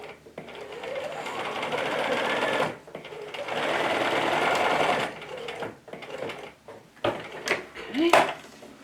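A sewing machine runs a straight stitch along the hem of a robe, giving two long, steady, close whirring runs split by a brief pause, then fading into softer handling clicks and rustles.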